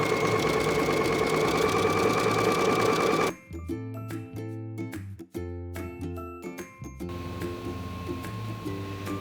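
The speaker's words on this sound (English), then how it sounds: "the first thing we're gonna do is go ahead and sew around the leg hole" A home sewing machine stitches around the leg hole of a bathing suit bottom, first a steady whirring hum, then a faster rhythmic chatter of needle strokes with brief pauses between runs.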